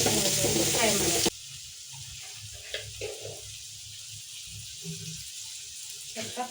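Crushed ginger and green chillies fry in hot oil with a steady sizzle, broken by a few light stirring clicks, after a loud burst of noise at the start.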